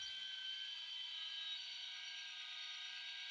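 An electric noodle maker hums and whirs steadily while extruding fresh noodles, a continuous mechanical motor drone with a faint grinding texture, close and even throughout with no speech.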